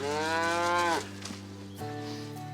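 Cows on a farm moo loudly and close, one long drawn-out call followed by a short pause and a second lower moo, with no other sounds around them.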